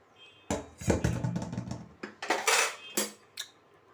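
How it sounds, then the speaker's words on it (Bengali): A finished vegetarian curry being ladled from a pot into a bowl in a home kitchen, heard as close, irregular metal clanks and scrapes of spoon against pot and bowl. "তরকারিটা দেখো কমপ্লিট হয়ে গেছে এবার বাটিতে মধ্যে ঢেলে নিচ্ছি"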